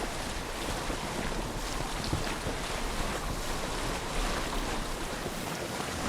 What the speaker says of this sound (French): Ce bateau n'est pas fait pour de telles vagues.